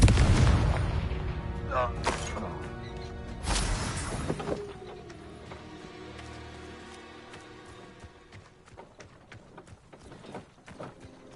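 Blasting-spell explosions in a Hogwarts Legacy castle fight: a loud burst at the start and another around three and a half seconds, with rumbling debris and game effects fading into quieter ambience and scattered small impacts.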